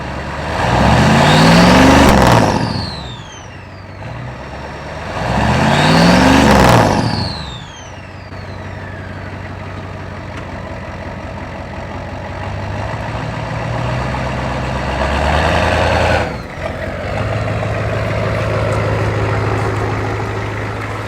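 A truck engine warming up after a cold start revs twice in loud swelling bursts, then settles into a low steady idle with one more brief rise later.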